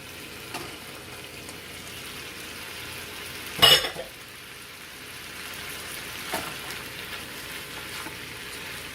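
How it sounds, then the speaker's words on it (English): Steady, gentle sizzling of chicken and vegetables sautéing in a frying pan, with a brief louder scrape or stir near the middle and a softer clink later. "You want to saute the chicken as well."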